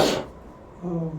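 A single sneeze at an indoor club meeting, one sharp, breathy burst right at the start, followed by a short pause and a brief low voiced sound.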